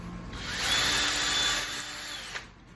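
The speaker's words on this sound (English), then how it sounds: "running my drill through this hole in the leg to get to the cross member" A power drill whirs steadily through a hole in a wooden plant stand leg into the cross member for about a second and a half, close and fairly loud, then spins down.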